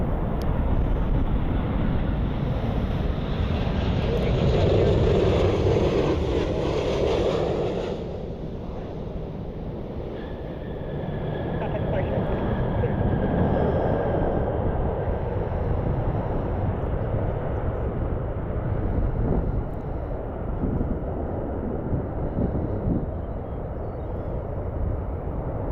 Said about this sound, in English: Frontier Flight 1696, A320 Neo inbound from Las Vegas.